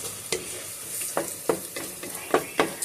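Stuffing ingredients sauté in a pan, a steady sizzle under a series of sharp, evenly spaced scrapes and clacks from a spoon stirring, close up and without speech.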